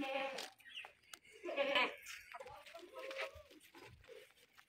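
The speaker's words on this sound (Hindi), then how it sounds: "भैया जी ए बकरी" A goat bleats faintly in several short, wavering calls amid farm-animal sounds, with quiet talk now and then.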